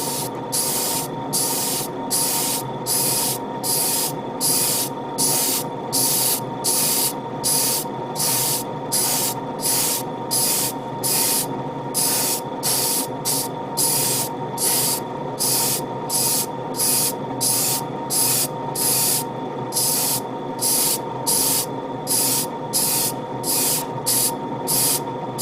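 Short repeated bursts from an airbrush or spray can misting paint onto a Gundam model kit (RG Hi-Nu Gundam parts), a steady rhythm of hissy pulses with brief gaps across the whole stretch, close and fairly loud, with no talking.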